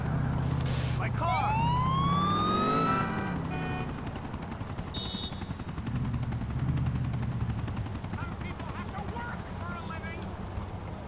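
A helicopter in GTA IV sets down amid steady rotor thrum, while a siren wails in rising and falling sweeps and a player talks over the game sounds.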